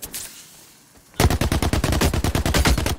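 Rapid automatic gunfire in The Cycle Frontier bursts out after a quiet second, a loud, close string of evenly spaced shots firing steadily to the end.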